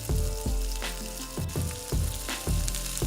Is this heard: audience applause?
no